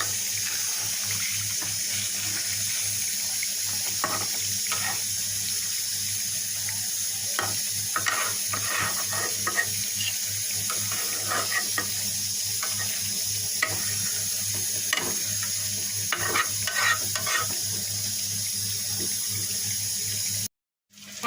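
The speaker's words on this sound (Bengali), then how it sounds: "একটু আস্তে করে নেড়ে দেবো" Pangas fish curry sizzling gently in a pan while being slowly stirred, a soft steady hiss with faint scraping taps of the spoon recurring throughout before cutting off at the end.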